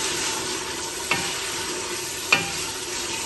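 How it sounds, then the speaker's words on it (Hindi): Mutton and onions fry in a karahi with a steady, close sizzle. Two sharp stirring knocks break through, one near the start and a louder one later. "आप देख सकते हैं प्याज फ्राई हो रहे हैं, अब हम इसमें मटन ऐड कर देंगे। इसको अच्छे से मिक्स कर लें।"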